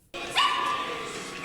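A dog in the film The Silence of the Lambs lets out a sharp yelping bark that stretches into a whining cry, close and fairly loud over a faint film soundtrack.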